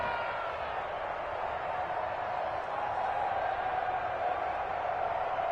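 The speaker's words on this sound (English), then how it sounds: "the crowd getting into it as we come up on a big 3rd down" A stadium crowd in an American football video game before a big third down, heard as a steady, moderately loud roar of cheering with no distinct peaks.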